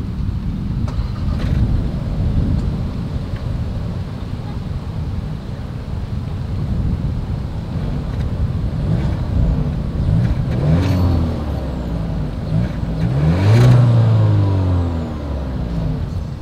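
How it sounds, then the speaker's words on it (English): A 2023 Volkswagen Taos SUV runs with a steady, low exhaust rumble that swells briefly near the end, heard alone without talk. "As always, here is that exhaust clip."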